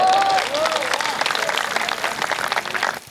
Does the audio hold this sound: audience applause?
yes